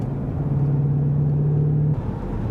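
A 2015 Ford Mustang V8 engine drones steadily at high revs, then briefly drops and picks up again while shifting gear, close and loud with no talk.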